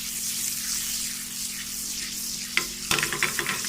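Chicken tikka karahi sizzles and spits steadily in hot butter, a loud, continuous frying hiss with a few sharper crackles and stirring clatters near the end.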